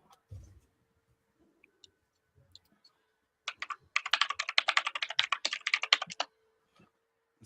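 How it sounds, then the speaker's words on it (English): Rapid, continuous typing on a computer keyboard, a dense burst of crisp clicks lasting a few seconds in a quiet room, preceded by a few scattered isolated taps. "Sounds like professional typer there."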